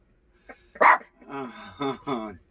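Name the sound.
dog barking at someone walking outside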